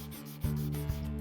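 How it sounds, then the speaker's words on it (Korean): Sandpaper smooths the surface of an iron plate for metal horse armour in a brief, close, scratchy rubbing pass, with two quick stroke changes. "철편의 표면을 사포로 매끄럽게 다듬는다"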